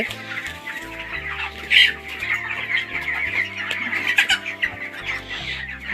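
Hens and roosters on a poultry farm cluck and squawk steadily throughout, fairly close and loud, with several birds calling over one another and no talking.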